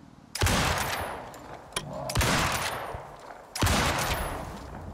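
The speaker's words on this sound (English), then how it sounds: "That was really only one headshot and then two additional shots because he was moving around" Gunfire in the game Icarus: three loud, sharp shots about 1.5 seconds apart, each cracking close and then trailing off in a long echoing tail.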